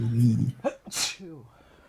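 One loud, close sneeze with a sharp burst follows a short voiced intake, then trails off into low murmuring.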